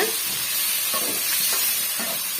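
Onion, garlic and tomato sauté in a pan for a drumstick-leaf chutney, with a steady close sizzle and hiss and a few soft scraping stirs at regular intervals.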